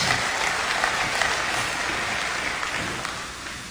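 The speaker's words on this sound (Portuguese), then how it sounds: "Sim, batam palmas." A church congregation clapping during a sermon, a continuous dense patter of many hands at moderate volume that eases off slightly over a few seconds, with no speech on top.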